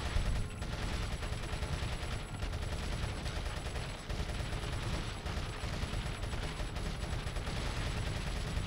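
Sustained gunfire in Resident Evil 4 aimed at a regenerator, a dense, loud run of rapid shots with a steady rhythm and a few short breaks.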